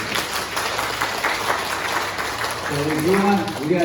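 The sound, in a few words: church congregation applause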